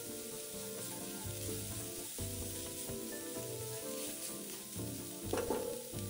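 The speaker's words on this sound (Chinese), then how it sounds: "炒香后再将预先备好的肉末也加进来，一直拌炒至肉末色泽变白" Minced meat stir-fried in a wok for a savoury filling, a continuous soft sizzle with occasional scraping strokes from a spatula, one brighter clatter near the end.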